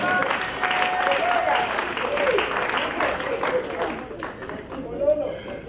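A congregation applauds steadily throughout, dense clapping from many hands that fills the room and begins to thin toward the end.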